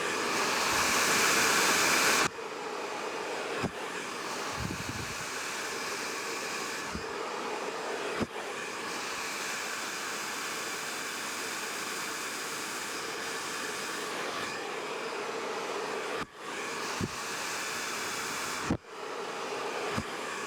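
A hair dryer blasts steadily while long fringe bangs are styled into a parting, a continuous close airy roar with brief clicks and shifts as the dryer moves.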